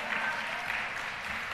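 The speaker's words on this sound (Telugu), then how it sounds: "చప్పట్లు కొట్టి దేవుని స్తుతిద్దాం" A church congregation claps its hands in praise as a sustained, even wash of applause, heard fairly faint and distant without any talking over it.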